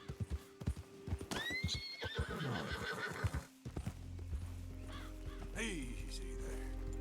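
A horse in Red Dead Redemption 2 gallops with rapid clip-clop hoofbeats, then lets out a loud, wavering whinny, with crow caws and a low rumble following near the end.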